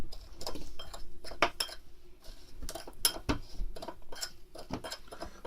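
A knife slices through frozen tundra meat to make stroganina, giving a series of sharp, close scraping and crunching strokes with short pauses between cuts and no voices.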